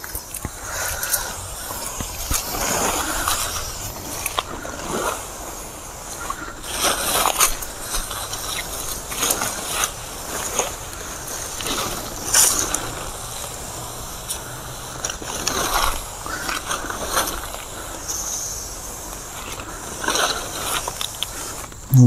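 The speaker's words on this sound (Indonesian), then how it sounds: "Kita langsung semprotkan saja." A hand sprayer applies herbicide to weeds outdoors, with intermittent hissing spray bursts and rustling of foliage over about twenty seconds, no talking.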